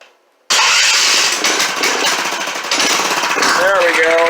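A Predator 301 mini bike engine, raised off the ground, kicks into life after a silent pause and runs loud and steady, its revs rising and falling with a rough, clattering note that fills the whole clip.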